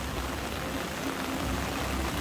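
Rain falls at Lamai on Koh Samui as a steady, dense hiss with no talking.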